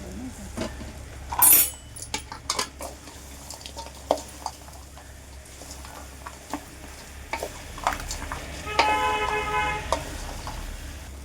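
Cauliflower is stirred through tomato pulp in a pan, giving soft intermittent scraping and a faint sizzle, with car horns honking in the distance.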